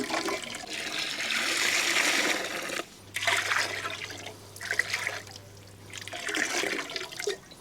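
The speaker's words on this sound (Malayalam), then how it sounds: "ഗ്രേവിയും വെള്ളവും കൂടി നമുക്ക് ഇതിലേക്ക് ഒഴിക്കാം" Gravy and water pour steadily into a pot of kabsa in a few bursts, a sloshing, splashing stream with brief pauses between pours.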